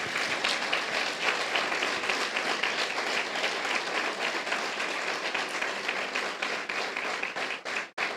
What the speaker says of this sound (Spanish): le dé un fuerte aplauso al Señor